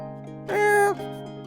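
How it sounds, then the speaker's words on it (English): A cat meows once, sharp and loud, in a vampire-party video game demo, the single bright harmonic call rising out of a steady background music bed and ending abruptly. "shot down the hall with a sharp meow, demanding me to follow"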